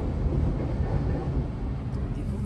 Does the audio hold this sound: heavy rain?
no